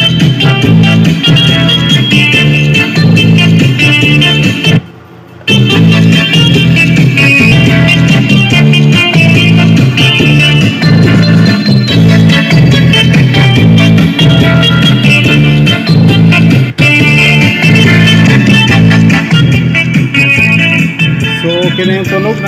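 A Xenon AX-102 subwoofer, newly repaired after a no-power fault, playing music loud and full with heavy, steady bass, one brief dropout partway through, and no talking.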